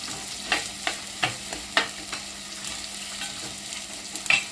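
Sautéing over a high flame in a clay pot for fish curry gives a steady low sizzle, broken by sharp scraping stir strokes spaced irregularly, close by and moderately loud.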